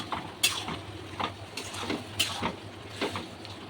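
Chana masala being stirred in a pan, with soft, intermittent scrapes and clinks of the spoon against the metal at a steady, unhurried pace, fairly quiet and with no talking.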